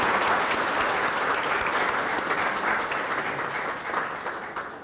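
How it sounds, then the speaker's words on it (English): A hall audience at an MoU signing ceremony gives a loud, sustained round of applause, dense clapping that stays steady for nearly five seconds and fades slightly at the end, with no voices over it. "give a round of applause to his struggle and to his achievement"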